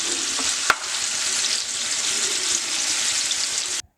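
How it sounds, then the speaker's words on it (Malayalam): Marinated chicken frying in oil in a frying pan, a loud steady sizzle that fills the whole stretch, with one sharp clink near the start before it cuts off at the end. "ഇതിലേക്ക് മാരിനേറ്റ് ചെയ്ത ചിക്കൻ ഇട്ട് കൊടുക്കുക. എന്നിട്ട് നന്നായിട്ടൊന്ന് ഫ്രൈ ചെയ്തെടുക്കുന്നുണ്ട്."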